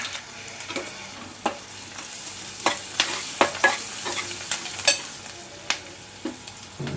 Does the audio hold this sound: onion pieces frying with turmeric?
yes